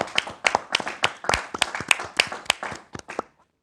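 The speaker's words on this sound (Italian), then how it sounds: "Grazie Andrea, un applauso perché..." Sparse, distinct handclaps from a small audience applauding Andrea during a talk-show panel, about a dozen uneven claps that thin out and stop, heard close and dry.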